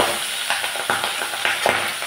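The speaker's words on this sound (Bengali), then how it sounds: "দিয়ে দিলাম কড়াইতে সরষের তেল, গরম তেলে এখন মাছগুলো ছেড়ে দিচ্ছি।" Pabda fish sizzle and spit in hot mustard oil in a wok, a close, continuous frying hiss broken by small crackling bursts.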